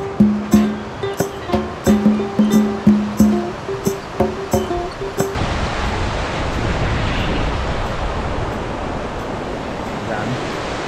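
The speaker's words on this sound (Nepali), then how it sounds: "यो चाहिँ घट्टे खोला" Ghatte Khola, a mountain stream on the trail to Gosaikunda, rushes in a steady broadband wash that takes over after a run of rhythmic clicks and knocks in the first half.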